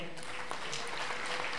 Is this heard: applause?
yes